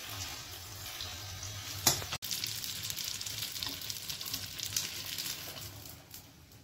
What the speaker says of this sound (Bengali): ওটা লুচি ভেজে নিলাম, লুচি ভাজিনি, পরোটার মতন বড় বড় করে গোল গোল করে ভেজে নিয়েছি